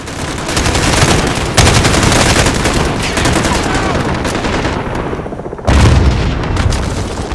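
Sustained gunfire from Modern Warfare Remake rattles almost nonstop: loud, dense automatic bursts and booms fill the whole stretch, with a brief lull near the end before another heavy blast resumes the barrage.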